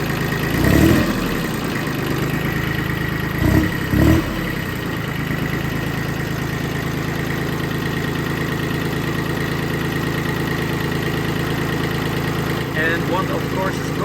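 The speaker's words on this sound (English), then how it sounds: "So this tractor will not shut off if I put this key in neutral." An Iseki compact diesel tractor engine idles steadily and continuously at close range, a low droning rumble with a few brief bumps and knocks, while someone talks over it at times.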